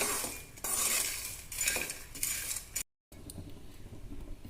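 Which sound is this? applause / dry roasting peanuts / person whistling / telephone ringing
dry roasting peanuts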